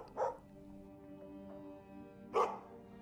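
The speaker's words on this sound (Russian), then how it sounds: "Кто из вас взял на борт собаку?" In a Minecraft series, a dog gives two sharp barks spaced about two seconds apart, loud and close against a soft background hum, with no speech.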